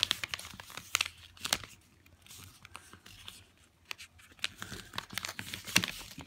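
Origami paper being folded and creased into a paper box, with close crinkling, rustling and sharp crease snaps in irregular bursts and a quieter stretch partway through.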